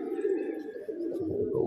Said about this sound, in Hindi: और देखिए ऊपर से भी कबूतर आ रहे हैं, ये इसमें एक कबूतर उड़ रहा